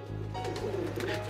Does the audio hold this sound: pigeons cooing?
yes